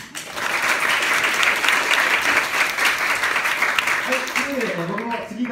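An audience at a graduation live concert claps in a loud, sustained burst of many hands, and near the end a voice begins speaking over the fading applause.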